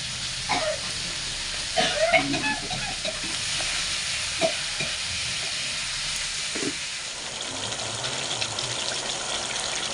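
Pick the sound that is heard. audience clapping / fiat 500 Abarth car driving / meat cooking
meat cooking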